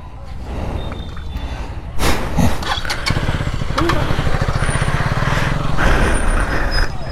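An Aprilia RS 457 motorcycle off-roading on slippery ground near Titabar, Jorhat: the engine idles, then jumps into a loud sustained revving drone with throttle surges and a rattling pulse, close by, with faint voices mixed in.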